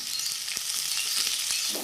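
Potato pieces frying in a pan with cumin seeds, a continuous close bright sizzle with occasional soft knocks from stirring.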